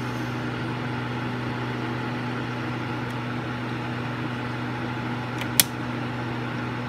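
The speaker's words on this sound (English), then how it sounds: "that's the low speed mode on the fan" A Suzuki SX4 electric cooling fan runs in low-speed mode with a steady, quiet hum, and a single sharp click stands out near the end.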